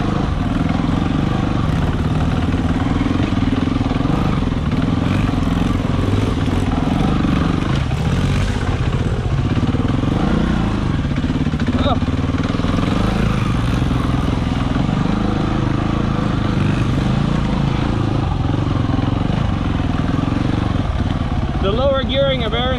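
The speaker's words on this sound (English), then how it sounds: "The lower gearing of Aaron's bike makes it kind of nice for all this uphill climbing" An enduro motorcycle with low gearing labors up a green uphill trail, its engine droning and revving steadily at mid distance for the whole stretch, with spoken commentary over it.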